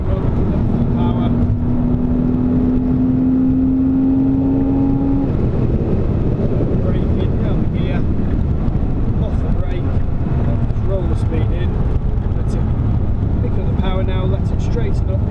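A car accelerates hard around the Silverstone race track, its engine droning loudly and steadily throughout as a voice talks over it.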